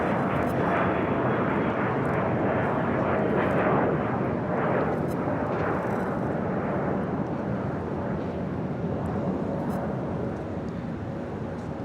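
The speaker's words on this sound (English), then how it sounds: "We also have China Southern Cargo 777 freighter getting ready to take off to Shanghai, flight 446." A China Southern Cargo Boeing 777 freighter takes off at Los Angeles International Airport bound for Shanghai, its jet engines producing a loud, steady broadband roar that swells and then slowly eases over the whole stretch.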